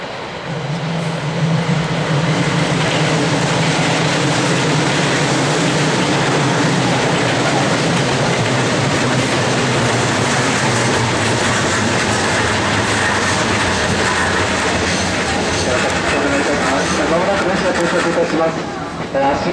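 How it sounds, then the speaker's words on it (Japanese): A JR 113 series train pulls into Ryogoku station, a loud sustained rumble with rail clatter and wheel noise filling the platform, while a station announcement and voices talk over it throughout. "列車入線しております、お下がりください。"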